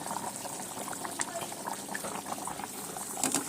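Fish curry with tamarind, onion, salt, chili and fenugreek bubbles in a pot, a soft, irregular simmering burble with occasional pops, heard under a voice speaking.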